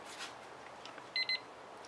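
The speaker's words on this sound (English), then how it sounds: "That's my timer telling me I got 2 minutes" A timer gives two short, bright electronic beeps in quick succession, quiet and a little distant, over faint room noise during acrylic paint pouring.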